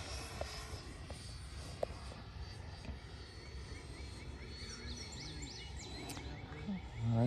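Freewing Eurofighter Typhoon 6S RC jet with a 90mm electric ducted fan on its maiden flight, making a faint distant whoosh as it passes over an open field, with light wind noise.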